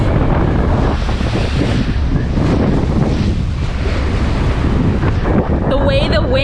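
Strong wind buffeting the microphone over rough ocean swells off Costa Rica, aboard a sailboat, a steady loud roar of gusts and breaking water throughout, with a brief faint voice near the end.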